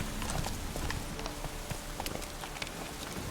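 The Witcher 3's horse Roach trotting, a steady clip-clop of hooves on a road, close and fairly quiet, with a faint rhythm of distinct strikes over light ambient noise.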